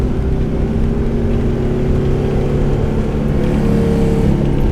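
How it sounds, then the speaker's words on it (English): A 1969 AMC Rambler wagon hot rod with an LS V8 engine roars steadily and close, a deep sustained drone that swells slightly as it revs, with no talking. "Well, that sounds like an LS motor."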